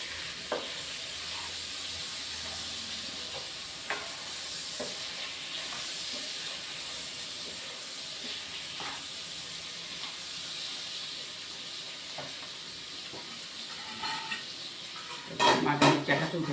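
Eggplant pieces cook in oil in a pan with a steady soft sizzle and hiss, punctuated by occasional light utensil taps, growing into louder clattering stirring near the end.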